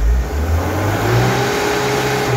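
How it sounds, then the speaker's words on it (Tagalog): A car engine revs hard after repair work, a loud, sustained mid-pitched roar whose pitch climbs and holds steady, close up with no voices. "Nagalit na po yung makina ngayon."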